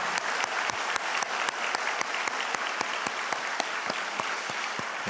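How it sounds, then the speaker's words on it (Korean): A church congregation at a special dawn prayer service applauds the Zion choir, with sustained clapping carrying a faint regular beat and continuing evenly to the end. "우리 다시 한번 박수하도록 하겠습니다"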